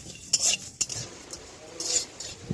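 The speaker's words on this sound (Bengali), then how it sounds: "এবার সব মশলাগুলোকে ভালোভাবে ভেজে নেব" Spices fry in a pan over a gas flame while a metal spoon scrapes and clinks against it in irregular strokes, with a faint sizzle underneath, for raw mango pickle.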